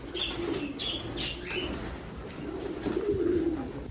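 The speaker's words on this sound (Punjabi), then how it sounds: "ਇਹਦੇ ਆ ਸਾਰੇ ਕਬੂਤਰ ਬਹੁਤ ਤਰ੍ਹਾਂ ਦੇ ਜਾਨਵਰ ਆ" Pigeons kept in a Punjabi village coo softly and repeatedly at close range, with short bursts of wing flapping and a few chirps over a steady background hum.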